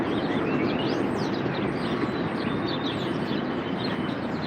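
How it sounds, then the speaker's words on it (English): A subway train rumbles below a street grate as a constant, muffled low roar, with small birds chirping faintly above it. "underneath this grate, this is called a subway grate. You can hear the subway down there."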